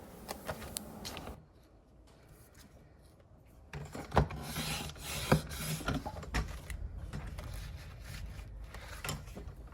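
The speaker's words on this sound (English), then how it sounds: "I'm just going to trim that off, but that cardstock is really thick, so it takes a couple of passes." Scraping cuts through thick cardstock come in several passes. The strokes are faint at first, then a louder, rougher stretch follows with sharp clicks from the trimmer.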